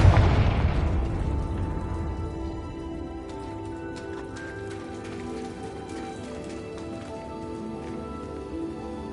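Confringo fire spell explosion in the Hogwarts Legacy video game, a loud booming blast at the start that decays into a long rumbling tail under a steady game soundscape.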